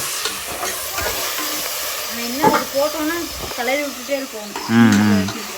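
Ginger and garlic sizzle and get stirred in a pan for mushroom biryani, a steady frying hiss with scraping stirs, while people talk over it.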